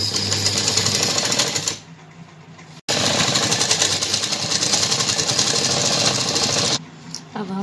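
A sewing machine stitches a lehenga's lining in two long rapid runs, loud and close, with a short pause between them and a brief stop near the end.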